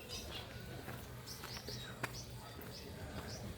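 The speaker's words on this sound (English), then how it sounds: "Different bird chirps." Several birds chirping in a village in Bohol, short repeated high calls scattered at a moderate distance over a soft outdoor hum, with no talk.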